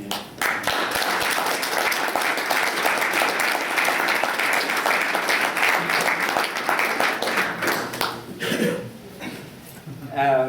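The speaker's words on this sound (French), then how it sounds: "je voudrais un petit applaudissement" A lecture-hall audience gives warm, sustained applause for a guest named Eric, dense clapping filling about eight seconds before tapering off, with a few chuckles, coughs and voices surfacing near the end.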